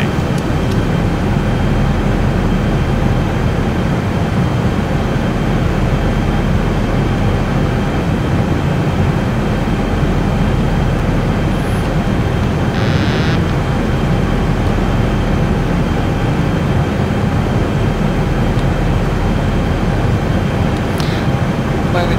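A Zibo-modded Boeing 737-800 on approach into Jackson Hole in X-Plane 11 produces a constant, loud, broadband roar of engine and airflow that holds steady throughout.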